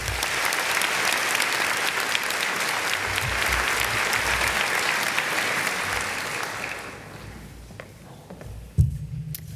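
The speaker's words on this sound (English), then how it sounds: "let's give everyone a round of applause" An audience at a nurse pinning ceremony applauds steadily for about seven seconds, then the clapping thins out and dies away, leaving quiet room noise and a single bump near the end.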